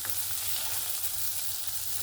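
Banana flower and egg pieces fry in oil in a wok with a constant, close hiss and crackle, ending in a sharp clink of a utensil, with no voices.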